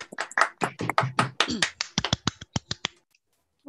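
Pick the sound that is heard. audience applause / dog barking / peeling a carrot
audience applause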